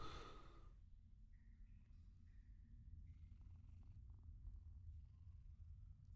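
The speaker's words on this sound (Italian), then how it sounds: "Sentite le fusa del gatto" Cat purring inside the dark fantasy video game Mortal Shell, a low, soft, continuous rumbling purr at a faint level, with a few quiet high tones above it and no voices.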